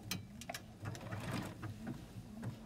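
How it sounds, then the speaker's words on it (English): A Juki DX 3000 QVP sewing machine, run by foot pedal, chugs in a quick rhythmic patter of needle strokes, close and moderately loud, with no talking over it. "I'm going to use my foot pedal this time."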